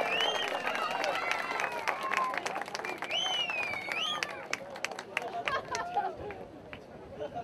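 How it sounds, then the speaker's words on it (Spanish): A crowd at a surf contest awards ceremony at Cabo Blanco in 2013 claps and cheers, with scattered whistles and lively voices over sustained applause. "Un aplauso para la cancha."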